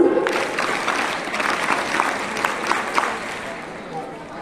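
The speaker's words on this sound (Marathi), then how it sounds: "एका जोरदार टाळ्या प्रमाणपत्रासह होऊन जाऊ द्या" An audience applauds heartily at a school sports felicitation ceremony, a sustained wash of many hands clapping, loud and close, with a voice speaking briefly over it.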